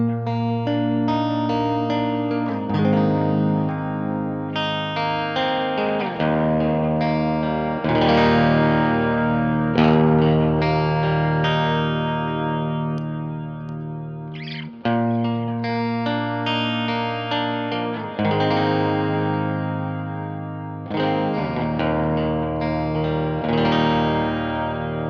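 An electric guitar with its humbucker coil-split plays through a Klon clone overdrive pedal, giving mildly driven chords and melodic lines that ring with sustain, loud and close, and continuing steadily without talk.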